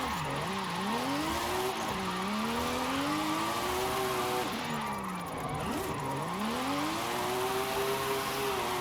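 A 1990s race car engine in Forza Horizon 5 revs and drones steadily, its pitch rising and dipping through gear changes and cornering, loud and continuous with no talking.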